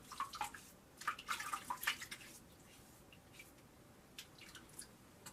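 Water splashes onto a face during a wet shave, with soft drips and quick splashy bursts in the first two seconds, then faint trickles in a quiet room.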